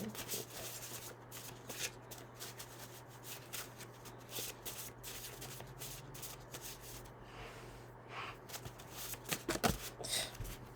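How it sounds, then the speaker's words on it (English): Tarot cards are shuffled by hand in a long, quiet stretch of soft riffling and rubbing, with irregular papery bursts close by and no talking. "We're going to keep shuffling until I get one."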